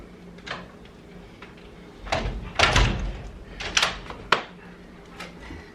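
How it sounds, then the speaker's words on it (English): A house door is opened, with a few scattered clunks and knocks of the handle and frame at moderate loudness, close by in a quiet room, no talking. "I'm gonna open up this door."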